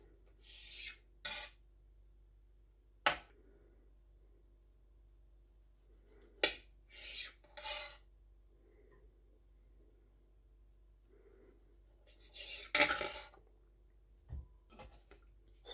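A knife slices through a chilled spinach roulade filled with smoked salmon, cutting it into strips; a few sharp rasping cuts and taps sound close and fairly quiet, separated by pauses, with no talking.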